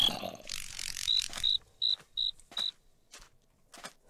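Insect chirps from a cricket in a modded Minecraft survival game, a handful of short, bright, evenly spaced clicks rising over faint background rustle and brief soft noise bursts.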